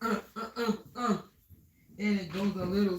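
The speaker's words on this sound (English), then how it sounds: "Let me clear my throat." A man clears his throat with a couple of rough, close guttural rasps, framed by brief stretches of his own speaking voice before and after.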